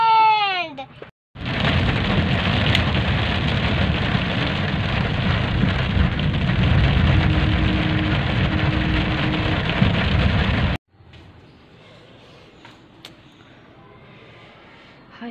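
Heavy rain pours in a loud, steady roar for about ten seconds, then cuts off abruptly, leaving quiet background sound.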